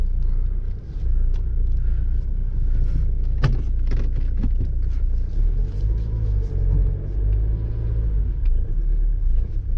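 A Jaguar XF 3.0D diesel car driving, a heavy continuous low rumble from inside the cabin with a few brief clicks and knocks over the steady engine and road noise.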